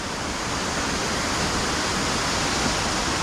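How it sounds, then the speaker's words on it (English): A waterfall with streams running down rocks, a loud, steady, broadband rush of falling water that fills the whole clip without pause, close and uninterrupted, with no voices. "So you've got the main waterfall, then you've got all those streams coming down the rocks on the other side."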